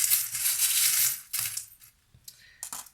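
Three small charms drop onto a table, making a cluster of bright metallic clinks and rattles. A longer jangle comes first, then shorter separate taps, all close and quiet.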